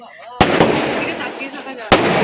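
Fireworks bursting continuously at a night reception party, two sharp, loud close blasts about a second and a half apart, each followed by crackling and rumbling fallout, with a voice talking over them.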